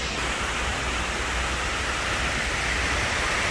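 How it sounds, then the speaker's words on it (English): Water cascades steadily into the 9/11 Memorial Pool in New York City, a continuous broadband rushing roar that holds at an even, fairly loud level throughout with no voices over it. "You can hear the water."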